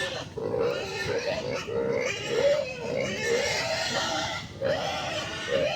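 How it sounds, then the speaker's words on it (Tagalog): A pig grunts and oinks steadily for about six seconds, fairly close and continuous, with people faintly talking around it on a farm. "Baboy."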